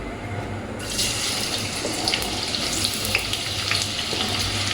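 Chopped onion hits hot oil in a pan while cooking hotel-style noodles, setting off a sudden loud, steady sizzling hiss that carries on without pause after a brief quieter moment.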